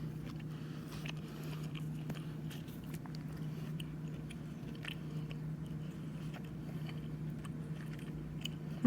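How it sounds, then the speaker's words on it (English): Someone chews a large, tough piece of well-done steak, a steady close-up mix of soft wet mastication and faint crunching over a low steady hum, with no talk. "You definitely have to work on chewing it."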